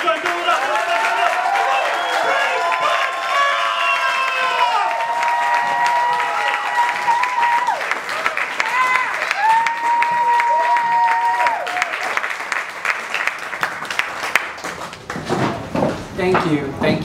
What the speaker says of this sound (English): just keep that round of applause going